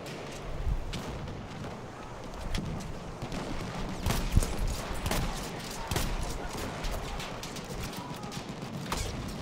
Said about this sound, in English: as soon as they peek their heads over the hill, I can shoot them